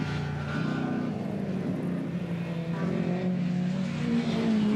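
Historic saloon racing cars, including an Alfa Romeo and a Mini, race in the St Mary's Trophy, their engines droning and rising in pitch as they pass on the circuit, loud and continuous with no talk.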